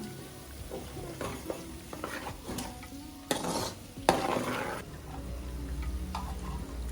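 Butter melts and sizzles in a pan while being cooked down into ghee, with a soft, steady frying hiss, a few stirring scrapes and clinks of a utensil against the pan, quiet and close.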